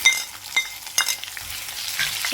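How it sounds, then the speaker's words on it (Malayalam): Ginger garlic paste fries in a pan for a Kerala mango and dates pickle, a steady close sizzle with soft stirring scrapes and small clicks of the spoon. "ചേർത്തിട്ട് നന്നായി ഒന്ന് മൂപ്പിച്ചെടുക്കാം"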